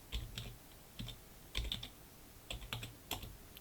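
Computer keyboard typing C++ code: bursts of close, crisp key clicks in clusters with short pauses, with no voice.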